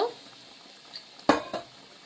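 A utensil stirs Bengali rohu fish curry with yogurt and spices in a pan, giving a faint soft scrape followed by two brief, sharper clinks against the metal, with the rest quiet.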